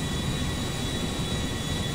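An airplane flies in the video game GTA 5, producing a steady, continuous engine drone and rushing noise at an even loudness throughout, with no talking.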